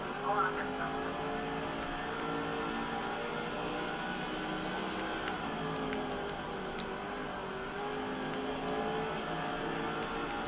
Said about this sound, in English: There's still 4 more cars up here that are racing pretty hard in front of Biffle